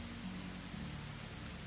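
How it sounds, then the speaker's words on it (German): Steady broadband hiss of rain falling in the medieval survival game Medieval Dynasty, a continuous even wash with no pauses, heard alone at low level. "Ich sehe hier nur Regen."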